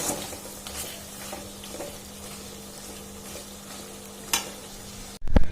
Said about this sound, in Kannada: paneer and potato hockey fry ಮಾಡ್ಕೊತಾ ಇದ್ದೀನಿ